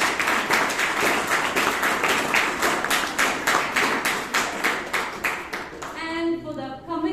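Audience at a Toastmasters club meeting in Bangalore claps in a fairly steady rhythmic pattern for several seconds, loud and close, then it fades as a voice begins speaking.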